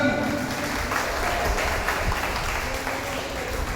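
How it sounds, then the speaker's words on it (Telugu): A crowd of mechanics' union members applauds steadily at an outdoor festival for World Mechanic Day, with dense, continuous clapping throughout and a few voices mixed in. "చప్పట్లు చప్పట్లు"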